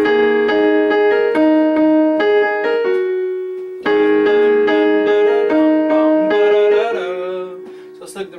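Piano playing the second-page section of a song as a lesson demonstration: a clear, steady melody over sustained chords, close and solo with no talking, with a short pause partway before the phrase resumes.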